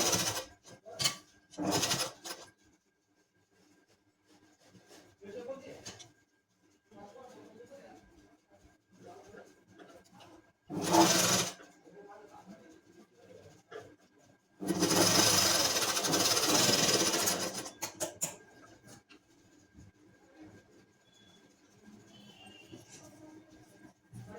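A sewing machine stitches a leaf design onto net fabric in short, loud bursts: a brief run near the start, another around the middle and a longer run later, with quiet pauses and soft background sounds between them.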